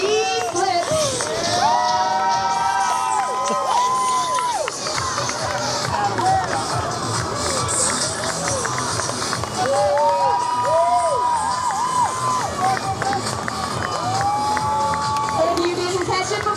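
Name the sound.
crowd cheering at a flyboard stunt show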